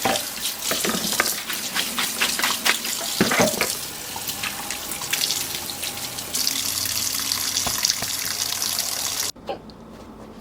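Tap water runs hard and steady into a sink while freshly cleaned fish are rinsed under it, a continuous close gush that shifts pitch as hands move through the stream before cutting off abruptly near the end.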